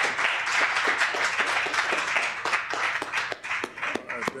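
An audience at a 1997 poetry recital at the San Francisco Public Library applauds a poet, with dense, steady clapping from many hands and a few louder claps standing out near the end.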